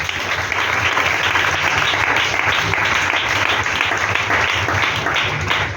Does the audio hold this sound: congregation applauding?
yes